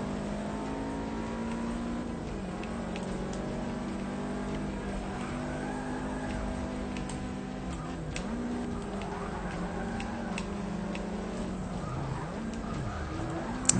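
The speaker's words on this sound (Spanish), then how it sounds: "Freno de mano y ahora acelerar para no perder el control" A race car in Forza Motorsport 6 engine droning steadily, pitch dipping and climbing as it slides through a handbrake turn and accelerates away, continuous and close.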